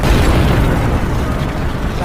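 A landmine explodes in a war film, set off by stones blown by a helicopter's rotor wash. A loud, dense roar of blast and debris fills the whole clip at full level with no pauses.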